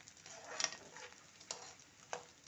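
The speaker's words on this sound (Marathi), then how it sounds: "पन्नास ग्रॅम डिंक आपल्याला पूर्णपणे तुपामध्ये असा तळून घ्यायचा आहे" Edible gum (dink) fries in ghee with a steady soft sizzle and bubbling, broken by a few sharp clicks and pops; no voices.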